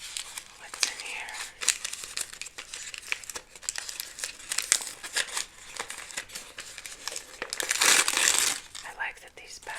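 Paper shipping bags crinkle and rustle as they are opened while unpacking a miniature jade teapot craft kit, close and intimate, with a loud burst of crumpling near the end amid soft whispered talk.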